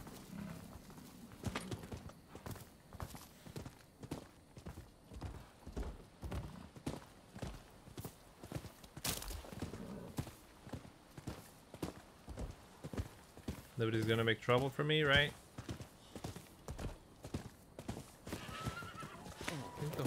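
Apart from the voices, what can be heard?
horse galloping in the video game Rise of the Ronin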